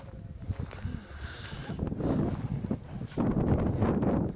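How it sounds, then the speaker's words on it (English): Wind gusts across an outback site near Mt Connor, rumbling and buffeting the microphone, swelling from a lighter rush to a steady, louder roar. "Bit of a wind."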